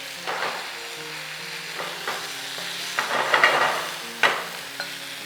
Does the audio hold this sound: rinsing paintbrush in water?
no